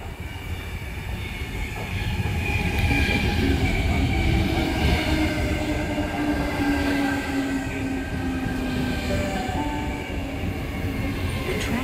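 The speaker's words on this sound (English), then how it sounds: "Arriving, we have a Bondi Junction service. Tangara set T6 leading the four." A Sydney Tangara four-car set on a Bondi Junction service pulls into Banksia station, a steady loud rumble of wheels and motors with faint squeal, rolling close by throughout.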